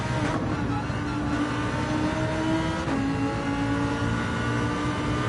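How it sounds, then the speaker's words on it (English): Lamborghini engine screaming at high revs around the Laguna Seca circuit in a racing game, a loud sustained drone climbing in pitch with a quick gearshift dip near the three-second mark, continuous and close. "This is all about changing up right on the red line, and rev it right the way out"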